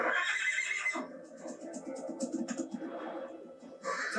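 A horse neighs loudly in a short, shrill whinny, then snorts and shuffles nearby.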